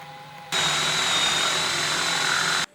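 A power drill bores into wood with a 25 mm Forstner bit, a loud steady whir that starts abruptly, holds for about two seconds and then cuts off.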